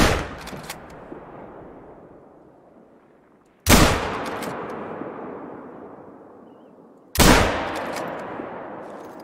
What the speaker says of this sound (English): See if we can't get a shot in on a puma.